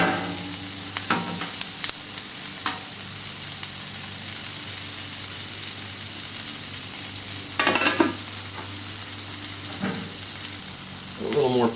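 Brats sizzle steadily on a Camp Chef flat top grill, a continuous close frying hiss, with a few louder scraping bursts near the end and no talking.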